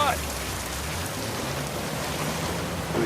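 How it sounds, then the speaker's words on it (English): A waterfall in the video game Uncharted 4 rushes in a steady, dense wash of water noise that holds evenly throughout without pause. "A secret cave behind a waterfall."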